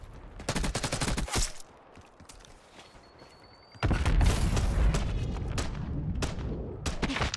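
Rapid bursts of video game gunfire, a fast run of sharp shots, a brief lull, then dense sustained firing with booms and impacts, loud and close throughout.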